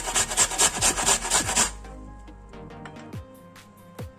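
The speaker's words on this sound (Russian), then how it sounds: "Затем в картофель натрем одну крупную луковицу." One large onion rubbed over a coarse grater in a fast, regular series of about ten harsh rasping strokes up close, followed by quieter taps and knocks of kitchen handling.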